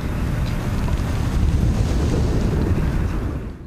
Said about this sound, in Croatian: Tijekom noći i u jutarnjim satima olujna bura na Kvarneru je rušila drveće